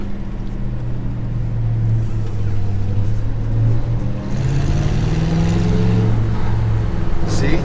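A patina-finished 1966 Ford F250 pickup on the move, its engine droning steadily from inside the cab, with the pitch rising and falling as the truck accelerates and eases off.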